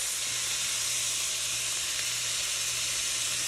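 Raw beef and garlic fry in a hot pan for sesame beef tacos with a loud, steady, close sizzle and hiss that holds evenly throughout, with no voices.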